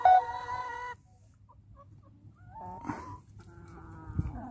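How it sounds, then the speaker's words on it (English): Chickens on a garden plot cluck and call in a few short bursts, fairly close, with a longer harmonic call at the start and quieter clucks later, no talking. "there's some chickens for the garden"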